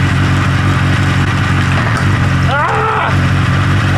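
A motorcycle engine runs at a steady, loud idle hum while its chain is cleaned; partway through, a brief rising and falling cry cuts over the drone.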